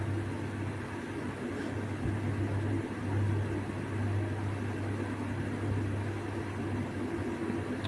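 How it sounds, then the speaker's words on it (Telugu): Garlic and onions frying in a pan for a bitter gourd fry, giving a steady, continuous sizzle with a low hum beneath it, even and unbroken throughout. "వెల్లిపాయలు అండ్ ఆనియన్, ఉల్లిగడ్డ కూడా వేసి వేయించుతున్నాను"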